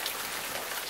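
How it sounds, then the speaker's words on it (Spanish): Steady rain with dense raindrops falling on a surface, a continuous hiss filling the short moment without any voices. "unas gotas de lluvia"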